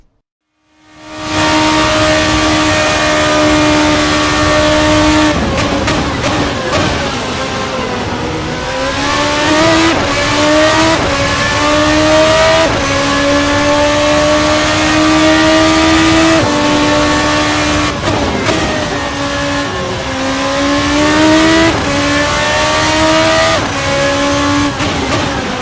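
A racing car engine in an Assetto Corsa mod, heard in game, screams through repeated high revving runs. Pitch climbs through each gear, dropping sharply at every upshift, loud and close with no talk.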